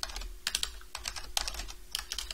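Rapid typing on a computer keyboard, close and crisp, with bursts of keystrokes separated by short pauses over a faint background hum.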